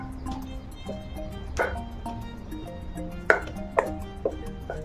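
Mushrooms are cut into pieces with a knife on a board. Several sharp, close chops land at an uneven pace over a faint tonal background.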